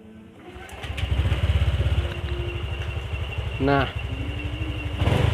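A Honda Vario 125 scooter engine runs steadily up close with a strong, fast pulsing idle, rising into a couple of short revs, with a brief spoken word over it.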